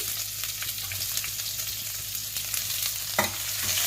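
Thinly sliced small onions frying in a pan for capsicum rice, a steady sizzle with occasional stirring scrapes, close and even throughout.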